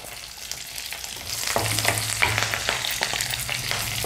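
Tempering spices (curry leaves, cumin, urad dal, mustard seeds) sizzle and crackle in hot oil, with a busy, steady frying hiss and occasional stirring.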